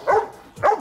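A dog gives two short, close barks spaced about half a second apart, with brief quiet between them.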